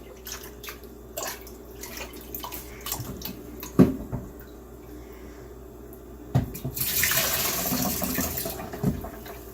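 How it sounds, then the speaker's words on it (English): Blueberry juice poured into a fermenter during home wine making, a splashing stream of liquid that begins loudly partway through after scattered clinks and drips, continuing steadily to the end. "We now want to transfer our berry juice into our fermenter."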